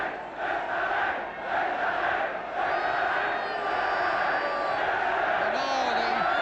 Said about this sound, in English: And now the racecourse crowd letting their team know that they are here.